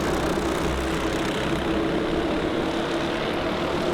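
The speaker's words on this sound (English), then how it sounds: "Those 13 karts, which were getting a little bit more strung out, are now closing right back up." Thirteen Honda Cadet racing karts run in a pack on the Kimbolton circuit, their small engines making a steady, dense buzzing drone that holds without a break.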